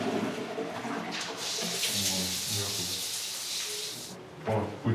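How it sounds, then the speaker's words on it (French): A toilet flush in a cell of France's most secure prison, a loud rushing gush of water, with speech heard at the start and end. "la chasse d'eau"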